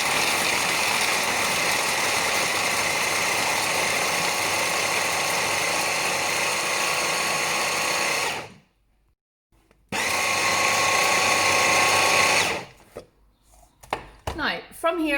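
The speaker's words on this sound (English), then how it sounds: "we're just going to blend this all together" Blender whirring through a caramel chocolate bar mixture with coconut oil, a loud steady motor drone that stops briefly, restarts for a few seconds, then cuts off, followed by faint clatter.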